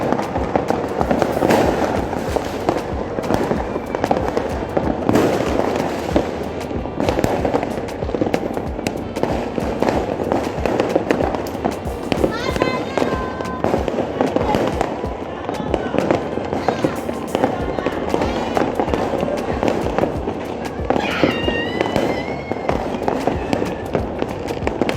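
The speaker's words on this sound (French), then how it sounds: "Les gens ont lancé des pétards là." Ivorian fans celebrating after a match set off firecrackers and fireworks, a dense, continuous crackle of bangs and pops across the whole stretch, loud and close, with crowd noise and scattered voices mixed in.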